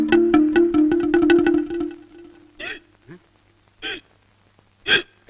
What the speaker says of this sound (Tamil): இது சாதாரண விக்கல் இல்லைங்க, பசி விக்கலுங்க.